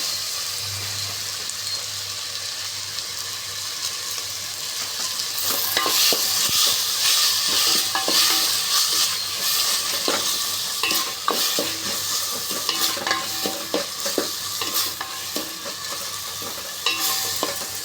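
Onion and tomato sautéing with salt in a pan for a drumstick poriyal kuzhambu, a steady sizzle with repeated spoon stirring and scraping that grows busier partway through, no talk.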